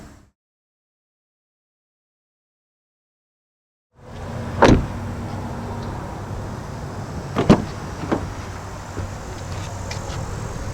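Inside the rear door of a 2019 Toyota Corolla Hatchback, the power window motor whirs steadily after a stretch of silence, broken by a few sharp clicks and thuds.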